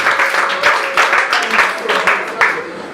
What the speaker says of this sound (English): A round of applause for Miss Bailey.